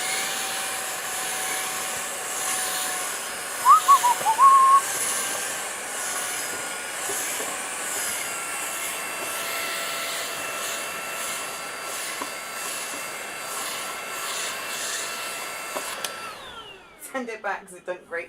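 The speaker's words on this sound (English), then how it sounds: "I'm vacuuming." A vacuum cleaner runs steadily indoors, a continuous whining motor drone with shifting tones that holds for most of the stretch, briefly bumping louder, then cuts off near the end, followed by a few clattering handling sounds.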